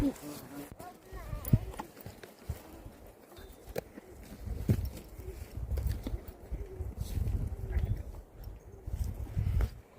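Horse hooves clip-clop at a walking pace on hard ground, a steady uneven rhythm of thuds against outdoor background noise.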